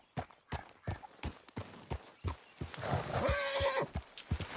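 Horse hooves clip-clop at a steady trot in a PS4 video game, a quiet, regular run of beats with a brief whinny-like snort midway through.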